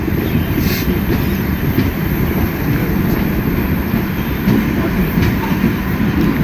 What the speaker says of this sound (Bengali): আর এখন আমাদের ট্রেন এসে পৌঁছালো কিষানগঞ্জ স্টেশনে